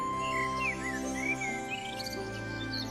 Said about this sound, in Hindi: बहुत से पंछी पानी पीने आए।